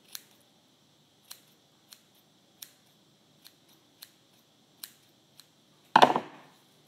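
Scissors snipping yarn while trimming a pompon, about nine crisp, evenly spaced cuts at close range, followed by a louder rustling burst at the end.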